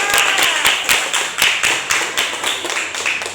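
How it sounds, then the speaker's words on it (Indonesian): Students in a classroom clap for a student group, a fairly small cluster of hands giving sharp, distinct claps in a loose rhythm, close and loud, fading slightly toward the end. "tepuk tangan untuk kelompok"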